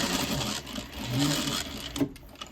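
A sewing machine stitches fabric for 18th-century pockets, a quiet, steady mechanical whir that ends with a sharp click as the needle stops in place.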